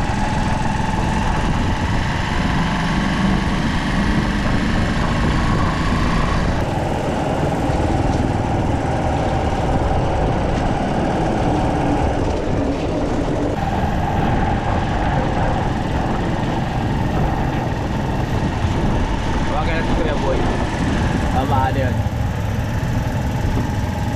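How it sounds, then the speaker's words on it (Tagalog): A tricycle engine drones loud and close through heavy rain, a steady low rumble with vibration that shifts in pitch now and then, while people talk faintly underneath. "Tricycle ang ating sasakyan"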